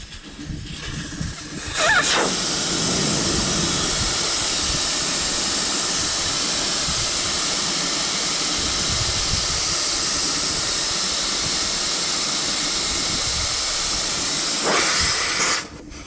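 Steady, loud hiss of air escaping from a Toyota pickup truck tire being aired down for off-roading on rocky trails, starting abruptly and holding constant for over ten seconds before cutting off, with no talking.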